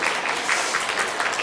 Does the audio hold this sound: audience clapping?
yes